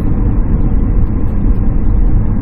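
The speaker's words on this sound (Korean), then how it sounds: "자, 오르막이에요. 엑셀 뛰세요." A Hyundai Grandeur TG with a 2.7 LPG engine climbing uphill gives a steady low engine drone mixed with road and cabin rumble, heard from inside the car.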